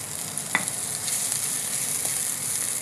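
A medium-sized onion sizzles steadily in a pan as it browns, a continuous close frying hiss with a faint clink of a utensil near the start.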